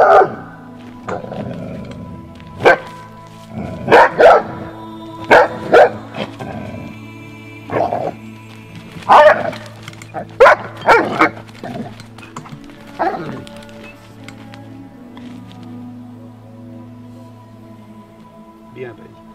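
A Briard dog gives repeated barks and yips, some close and loud, broken by pauses and whimpers, while a voice talks in between during an aggression assessment.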